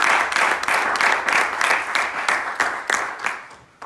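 A church congregation claps together in rapid, dense applause, loud and near, fading toward the end.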